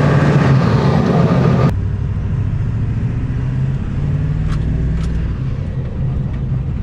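A Ford 7.3L Powerstroke diesel truck with 500,000 miles and upgraded injectors pulls away and drives, a steady low engine rumble with road noise heard from inside the cab, loud and continuous.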